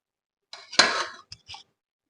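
Rice being spooned in layers into a pot of chicken biryani masala, with a few short metallic clinks and scrapes of a utensil against the pot, close and fairly quiet.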